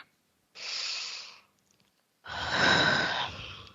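One person takes two deep, breathy inhales close to the mic, the first about a second long and the second longer and louder after a short pause.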